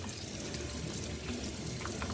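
Tap water streams steadily into a bowl fitted with a strainer, a soft, continuous splashing rush with no voices over it.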